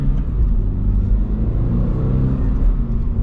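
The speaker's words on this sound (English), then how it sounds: "you can kind of just hear the road going, given there's not that much sound insulation" A constant low rumble of tires on pavement fills the cabin of a 2026 Subaru BRZ tS sports car with little sound insulation, steady and loud with no voices.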